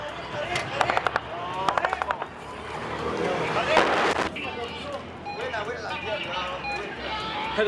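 A bomb strikes a school complex in Syria: sharp crackling blasts and rapid popping bursts, then a loud rumbling roar, with people talking and shouting throughout.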